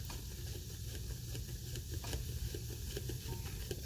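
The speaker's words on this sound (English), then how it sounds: "And I will continue to stir" A reaction mixture being stirred in a chemistry lab, a steady broadband hiss with faint, irregular light scraping and tapping from the stirring, close and continuous throughout.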